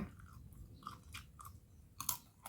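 Crunchy chewing of crispy fried shellfish, several close, crisp bites and mastication sounds spread over a couple of seconds with no talking.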